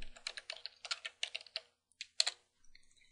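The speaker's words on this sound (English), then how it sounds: "And let's type in run level." Typing a terminal command on a computer keyboard during a Linux runlevel lesson: a quick run of close, crisp key clicks in short bursts, a brief pause, then a few final keystrokes, with no talking.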